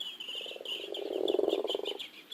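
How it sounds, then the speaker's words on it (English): A frog croaking in an outdoor habitat, a single rapid pulsed call that rises and swells for about two seconds, clear and close over a steady chorus of high insect-like trills behind it. "That was a frog."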